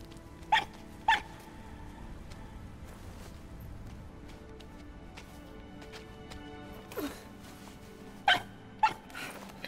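Fox companion in the video game RiME, giving several short, sharp barks in separate bursts over a quiet ambient background.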